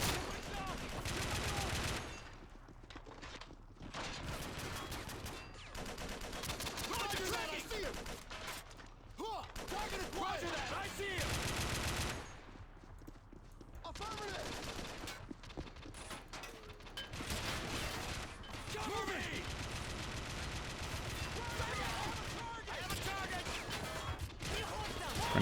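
Heavy bursts of rifle and machine-gun fire from Russian soldiers in a Call of Duty: World War 3 mod firefight, dense and loud, continuing with brief lulls throughout.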